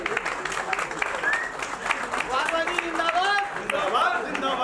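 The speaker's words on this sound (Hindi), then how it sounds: "जोरदार तालियां हो जाए" Applause breaks out at a bank officers' retirement party, a dense burst of clapping from a gathered crowd mixed with cheers and chatter, steady and fairly loud throughout.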